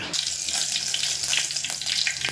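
Mustard seeds dropped into hot oil in a pan for Maharashtrian masoor dal, a close bright hiss with quick popping crackles scattered through the short stretch.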